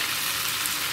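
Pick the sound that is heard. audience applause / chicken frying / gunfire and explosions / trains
chicken frying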